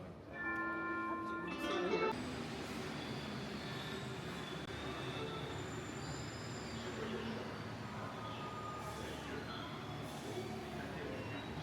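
A Paris metro train pulls into the station, its wheels squealing in high tones over a steady heavy rumble of rolling carriages that stays loud and continuous throughout.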